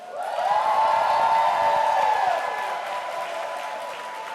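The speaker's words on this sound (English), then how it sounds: "would you, by clapping, hooting, hollering, signal your willingness to sing happy birthday to this woman?" A crowd at an appreciation gathering for Rita Smith Wade-El bursts into sustained clapping mixed with hooting and hollering, loud and full at first, then easing slightly while continuing steadily to the end.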